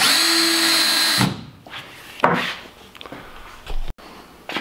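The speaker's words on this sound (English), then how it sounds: "We're putting the screw in now." A power drill whines loudly for just over a second driving a screw into a rafter, then stops, followed by a few scraping and thumping knocks nearby.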